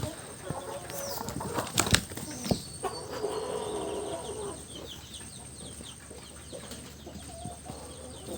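Laying hens cluck nearby while wings flap in brief bursts, with a person talking over the birds and some scattered knocks.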